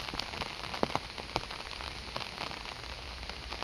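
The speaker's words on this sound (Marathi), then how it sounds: "जोराचा पाऊस चालू आहे, भरपूर पाऊस चालू आहे" Heavy rain falls near a flooded river, a dense steady patter of drops striking surfaces close by with scattered louder splats, no voices.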